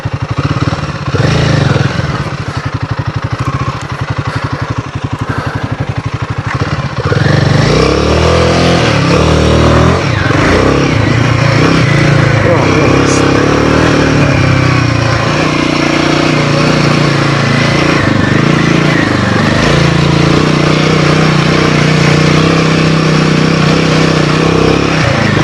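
A big motorcycle rides along a narrow, loose side track, its engine loud and close throughout, the note rising and labouring as it climbs and pulls along the rough ground.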